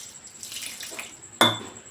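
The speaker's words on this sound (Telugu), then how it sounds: "ఇప్పుడు మనం వాటర్ వేసుకొని కలుపుకున్నాం" Water is poured into ragi flour and mixed by hand in a bowl, a soft splashing swirl followed by a single sharp clink of a vessel near the end.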